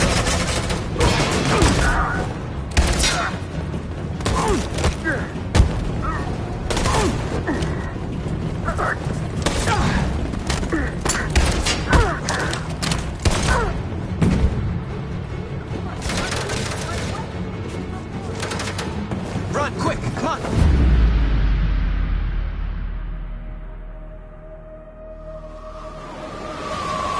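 Dense suppressing gunfire from a firefight in Detroit: Become Human, continuous loud overlapping shots and impacts with shouting voices mixed in, ending in a deep rumbling blast that fades.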